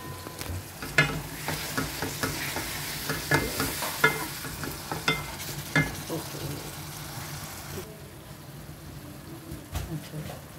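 Tomato puree added to frying masala for a chickpea biryani pulao, stirred with repeated spoon scrapes against the pan over a steady sizzle, close and moderately loud, with someone talking over it before the stirring stops.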